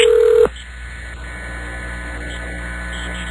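Landline telephone tones: a steady electronic tone at the start cuts off, leaving a low line hum with faint clicks before a second tone begins at the end.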